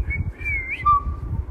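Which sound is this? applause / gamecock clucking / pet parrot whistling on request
pet parrot whistling on request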